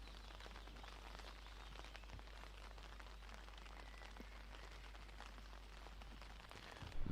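Rain falls throughout an outdoor disc golf round, a soft, steady patter of drops on surfaces under a low rumble, fairly faint, with a slight bump in level at the very end.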